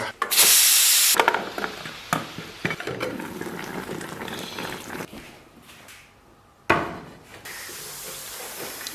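Steam hisses from a lidded pot pressure-cooking a whole 30-jin pig head over low heat, with a loud burst of hissing at the start, softer bubbling and clatter, then another sharp spurt of steam.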